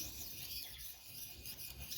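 Steady abrasive rasping of sandpaper rubbed over a stainless steel knife blade, a continuous gritty scrape close by with no speech.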